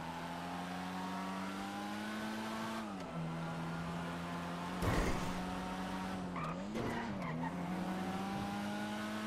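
A steady car engine drones loudly, with tires squealing through sharp turns as the pitch dips and recovers.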